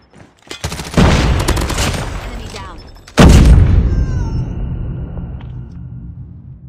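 A frag grenade blast and gunfire in a first-person shooter: two loud booming explosions about two seconds apart, each with a long rumbling decay, preceded by short bursts of shots.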